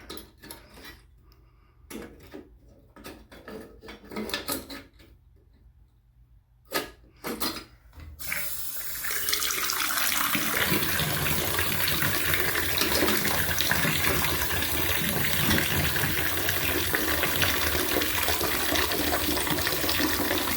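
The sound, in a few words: water running from a bathtub spout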